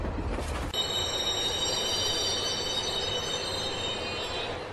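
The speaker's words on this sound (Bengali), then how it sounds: "অনির্বাণ এখন একটা খালি ট্রেনে লাশের সাথে যাত্রা করছিল" A moving train in a Bengali horror cartoon: a steady, loud rumble of rolling wheels with a high metallic squeal running throughout, after an opening burst of low noise, and no voices.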